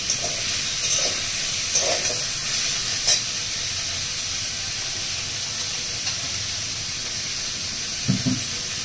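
Vegetables for Bengali sukto stirred in a hot pan, a steady close sizzle and frying hiss with a few soft scraping knocks of the spatula, and no talking.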